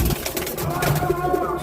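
Domestic pigeons give low throaty coos, close by, with a person talking over the calls.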